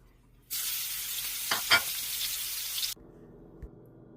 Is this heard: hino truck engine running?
no